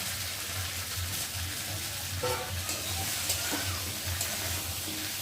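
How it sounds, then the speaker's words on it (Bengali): Mixed vegetables stirred in a kadai, a steady scraping and sizzling churn that runs throughout with occasional knocks of the utensil, fairly close and moderately loud, with no talk over it. "এখন আমি ভালো করে নেড়ে দেবো।"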